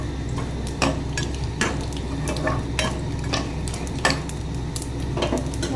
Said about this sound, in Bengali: তেজপাতা, কালি জিরা ফোড়ন দিয়ে দিলাম।